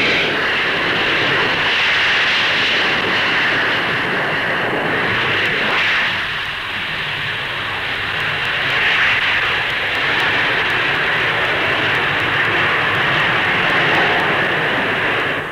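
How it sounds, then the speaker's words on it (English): A de Havilland Comet jet airliner with four Rolls-Royce Avon engines roars through its takeoff run at Farnborough, a loud, steady jet rush holding for the whole stretch with a brief dip midway and no voices. "Powered by 4 Rolls-Royce Avon jets, its takeoff run is exceptionally short."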